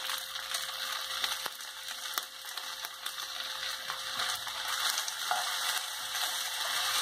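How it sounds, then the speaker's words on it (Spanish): Pork chops fry in a pan with a steady, bright sizzling hiss, dotted with small sharp pops and crackles throughout. "Cuando comienzas a ver que tus chuletas están empezando a freír"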